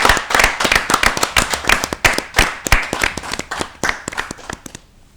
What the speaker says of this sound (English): Let's give them a big round of applause and wish them well.